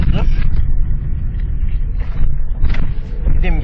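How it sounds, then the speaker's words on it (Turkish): Unmuffled engine drone fills the cabin of a 1989 Ford Sierra with no sound insulation, a steady loud low rumble running throughout while someone talks over it. "Motorun sesi olduğu gibi e, geliyordur. E, duyuyorsunuz."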